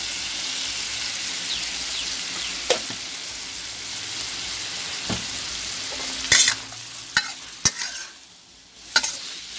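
Basil minced pork with shrimp stir-frying in a hot pan: a continuous close sizzle broken by sharp scrapes and clatters of the spatula, bunched near the end.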